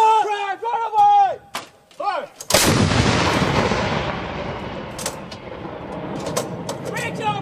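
A U.S. Army M777 howitzer fires during a live-fire exercise, one sudden massive boom followed by a long rolling rumble that fades slowly, preceded by shouted commands from the crew.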